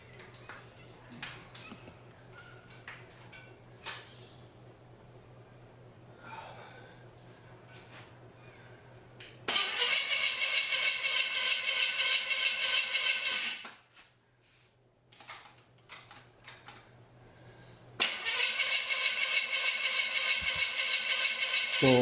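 Engine in a restored Victress C3 Corvette chassis cranking on its first start attempt without firing: two long, loud starter-motor whirring bursts, close, separated by a pause with faint handling noises beforehand.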